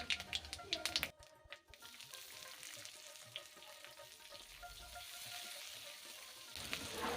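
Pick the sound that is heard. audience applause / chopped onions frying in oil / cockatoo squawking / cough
chopped onions frying in oil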